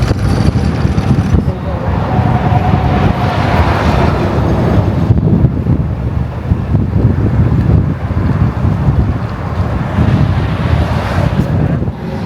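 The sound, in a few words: wind noise through open car window while driving on highway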